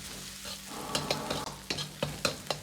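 Pork belly stir-frying in a wok with ginger, garlic and chili, a steady close sizzle broken by several sharp clacks and scrapes of the spatula at an uneven rhythm, with no talking.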